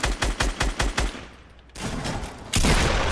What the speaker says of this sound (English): He's shooting back at me.